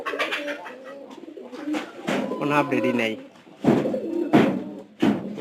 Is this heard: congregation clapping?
no